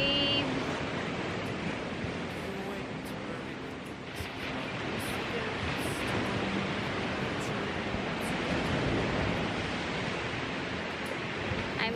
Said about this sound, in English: I'm just sitting right there watching the waters rush into the rocks.